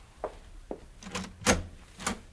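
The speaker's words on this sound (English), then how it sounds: "Somebody at the door." Knocking at an apartment door as a radio drama sound effect, four or five separate raps with short gaps between them, fairly faint and heard alone.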